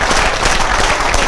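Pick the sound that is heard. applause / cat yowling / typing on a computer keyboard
applause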